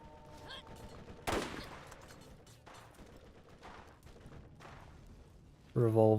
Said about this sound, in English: Somebody's got a really powerful gun.